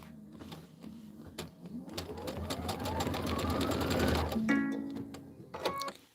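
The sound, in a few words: sewing machine stitching out quilt filler blocks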